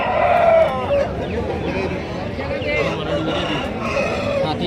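Country roosters crow repeatedly at a busy Friday rooster market in Anakapalli district, their loud calls overlapping amid constant crowd chatter and people talking nearby.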